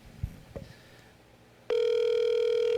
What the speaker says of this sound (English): Ron Galletti, I'm calling you, so pick up the phone